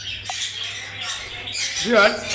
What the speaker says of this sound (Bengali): খুবই চমৎকার একটি আপনার ময়না পাখি